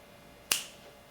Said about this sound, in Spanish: vamos a empezar con el primer chasquido para poder encender esta lámpara